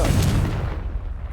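A Confringo explosive spell blast from Hogwarts Legacy: a single loud, deep boom that hits at once and then rolls off into a low rumbling decay, heard on its own.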